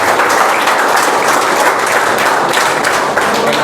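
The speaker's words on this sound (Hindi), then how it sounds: "एक बार छात्रों से आग्रह करूँगा, एक बार ताली बजा सकते लिए।" Students applaud together at the opening of a coaching class in Mathura, a dense, steady burst of clapping that stays loud and continuous throughout, with no talk over it.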